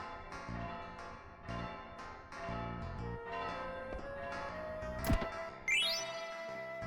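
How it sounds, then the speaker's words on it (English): A bell rings in the game Final Fantasy IX, its tolling tones ringing out amid layered game music and effects, with a sharp chime burst near the end. "Now come up here. Ring the bell!"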